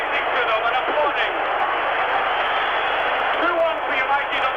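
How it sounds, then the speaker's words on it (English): A Barcelona stadium crowd rises and applauds Dundee United's players after a goal in a European match, a dense, steady roar of clapping and cheering that fills the stands for several seconds at an even level. "And the Barcelona crowd are rising to them and applauding."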